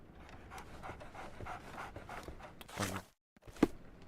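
A dog pants in rapid, rhythmic breaths inside a Sherlock Holmes video game, close and moderately loud, then briefly falls silent before a single sharp sound.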